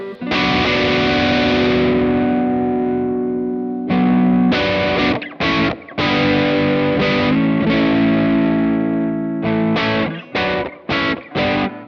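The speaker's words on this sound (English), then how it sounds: "that is what a 5150 sounds like when you clean it up" Electric guitar through a small amp modeller on a cleaned-up 5150 amp setting, sustained ringing chords followed by several short, choppy stabs, played alone.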